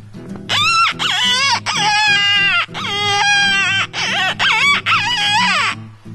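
A handheld wolf howler call blown for low notes produces a series of wavering, howl-like notes with sharp breaks between them, loud and close, imitating a wolf's howl.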